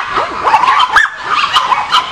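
Several rescued puppy-mill dogs yip, whimper and bark in a rapid, overlapping jumble, loud and close throughout with no pause.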